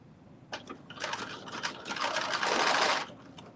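A sewing machine stitches a 5/8 inch seam on a McCall's 8142 garment, its quiet mechanical whirr coming in short bursts that build into a steadier run of stitching near the end.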